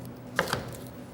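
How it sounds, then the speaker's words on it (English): A knife slicing onions on a cutting board, two quick close taps against the board amid quiet surroundings. "I'm making some slices of onions"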